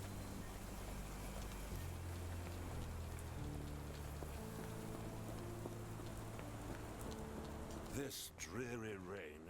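Steady rain falling in the video game Sherlock Holmes: The Awakened, a constant soft hiss with low background hum throughout, ending with a brief burst of talk.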